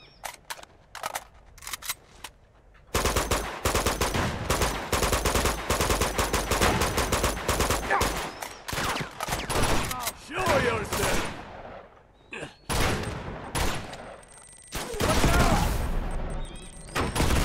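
Rapid bursts of automatic gunfire and single shots in the Uncharted 2 video game, loud and dense through most of the stretch with brief pauses, mixed with game sound effects and a talking voice.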